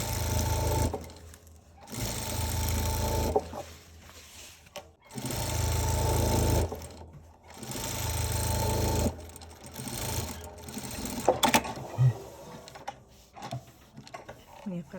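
A sewing machine stitching a fabric cover for a broom runs in several sustained bursts of a few seconds each, separated by short pauses, close and steady, with a voice talking in between.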